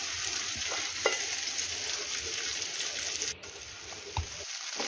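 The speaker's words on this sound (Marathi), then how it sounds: "आता आपण यामध्ये चिरलेली भेंडी परतून घेऊया" Chopped okra stir-fries in hot oil in a kadai, giving a loud, constant crackling sizzle throughout with a few light stirring knocks.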